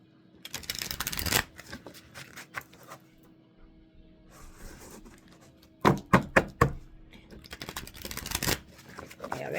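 An oracle card deck called True Intentions is shuffled close by in several bursts of riffling and flicking, with bright papery clatters and a few sharp taps.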